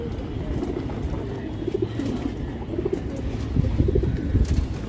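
Pet pigeons coo in short repeated rolling phrases, several bursts close by over a busy background of rustling and faint household noise.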